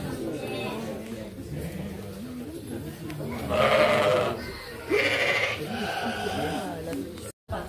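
Sheep bleat several times on a farm in Jouvençon, the calls coming in short overlapping bursts at moderate distance, under a background of people talking.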